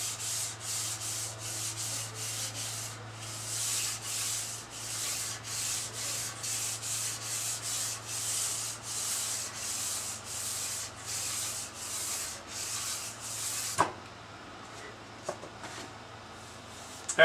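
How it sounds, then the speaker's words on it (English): Sandpaper dry-sands a wood finish by hand in steady, regular strokes, about two per second, for a long stretch before stopping. "So lightly dry sand it."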